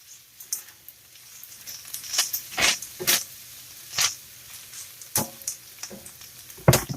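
Food is stirred in a frying pan while preparing burritos, with a soft steady sizzle under a series of sharp scraping and tapping strokes of a utensil against the pan, spaced irregularly.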